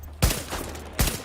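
Two sharp gunshots in the video game The Division, about three-quarters of a second apart, each a loud close crack with a short tail, and no talk during them.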